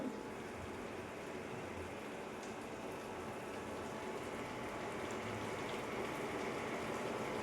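Milk pours into a pan of cooking carrot halwa, making a faint, steady bubbling and liquid hiss that runs unbroken and fairly distant throughout.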